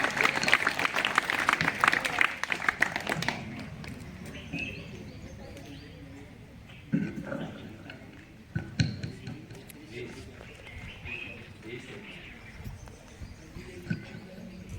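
An audience at a school event breaks into applause to welcome a primary-school student speaker: loud, dense clapping for about three seconds, then fading to scattered claps, murmuring voices and faint bird chirps.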